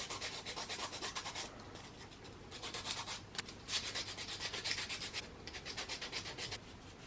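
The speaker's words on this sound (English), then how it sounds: "so I've just give them a quick sand" Dried clay cowgirl hat keychains are sanded by hand, a steady raspy back-and-forth rubbing in rhythmic bursts with brief pauses, close and fairly quiet, no talking.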